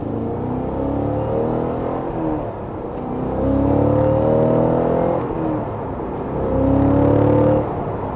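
A Cadillac CT4-V or CT5-V Blackwing sedan revs and accelerates in repeated surges, its engine note climbing through gears, dropping and rising again, loud and close with no voices.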